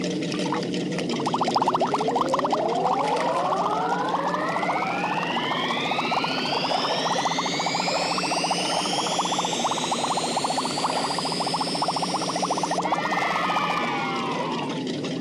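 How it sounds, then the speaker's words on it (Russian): Cartoon container being filled with pink soap bubbles, heard as continuous liquid pouring and fizzing with rising sweeping tones that climb steadily over about twelve seconds, then a brief bubbly burst at the end; no talking. "Вот и первый контейнер, который нужно заполнить розовыми мыльными пузырями."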